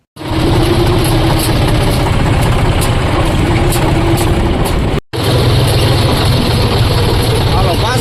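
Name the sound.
John Deere tractor engine idling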